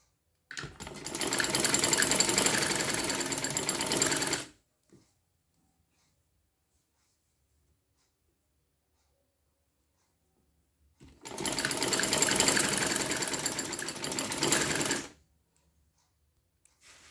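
A sewing machine stitching around a collar neck runs in two steady, close bursts of rapid mechanical whirring, each lasting about four seconds, separated by a long silent pause.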